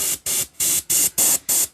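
Several short bursts of water mist from a spray bottle hit the inside of a sneaker's sock liner, six quick, even hisses in steady rhythm, close and clear with brief gaps between.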